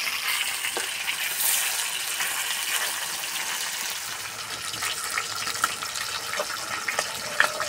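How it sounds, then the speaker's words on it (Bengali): Rohu fish pieces frying in hot oil and being turned until browned, a continuous loud sizzle and crackle with occasional sharp pops, close by and with no talking. "উল্টে পাল্টে বেশ করে লাল লাল করে ভেজে নেব।"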